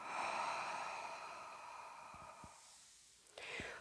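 A single long, breathy exhalation with an open-mouthed 'ha' during morning breathing practice, fading out, followed by a few faint clicks and a short intake of breath.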